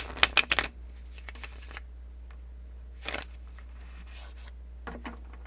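A tarot card deck is shuffled, with a quick burst of riffling crackles at the start, then a few softer card flutters and taps spaced apart against a quiet hum.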